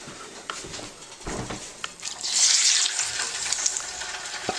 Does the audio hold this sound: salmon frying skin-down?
yes